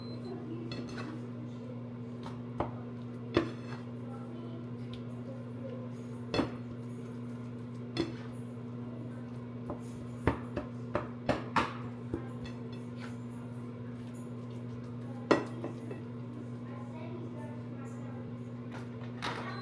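Cooking ground turkey in a home kitchen, with a steady low stovetop hum and scattered light clinks and taps of a pan and utensils, plus a person talking now and then.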